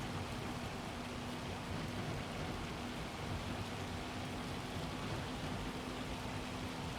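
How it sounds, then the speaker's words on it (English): Rain in the video game Farming Simulator 25 makes a steady, even hiss throughout at a moderate level, uniform and unbroken, with a faint low hum underneath. "I should probably not be harvesting in the rain."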